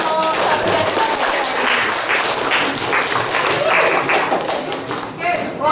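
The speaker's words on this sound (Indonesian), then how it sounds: "Tepuk tangan untuk kelompok 1 dan 2" A classroom of pupils claps for student groups one and two after their presentation on food chains: dense, steady applause lasting several seconds, with a few voices and thumps mixed in.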